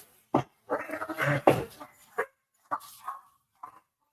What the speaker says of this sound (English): don't know if you can hear my dogs. The mailman just dropped mail on our mailbox. The dogs are welcoming and saying hi to him.